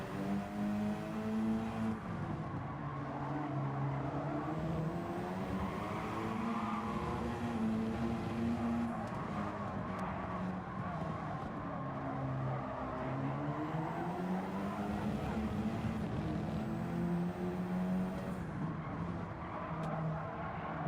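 A race car accelerates hard out of a corner, its engine note climbing and falling through repeated gear changes, loud and sustained with no talk over it.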